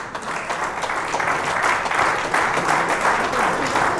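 Audience applause at a mega star conference held at the Royal Tulip in Cox's Bazar, a dense, steady clapping from a crowd that carries on without a break for several seconds.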